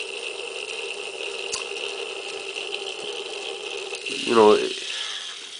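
A cheap small eBay motor runs under load with a steady mechanical whine and a gear-like ratcheting buzz, which briefly rises and swells near the end, while someone speaks over it.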